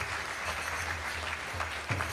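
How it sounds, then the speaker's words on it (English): Applause for sponsors at a Sunday temple feast program, a soft, even patter of clapping from a gathered congregation, heard at a distance and fairly faint. "So a huge round of applause for them as well."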